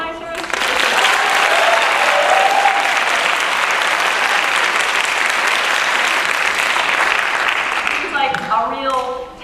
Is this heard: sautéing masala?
no